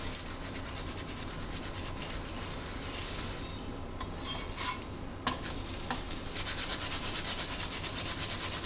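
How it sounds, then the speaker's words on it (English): Aloo paratha, a wholewheat flatbread stuffed with spiced potatoes, sizzles steadily in a pan as ghee is spread over its top, with soft scraping and a few light clicks of utensils over the continuous frying hiss. "Now I'm going to put a teaspoon of ghee on top and then spread it over."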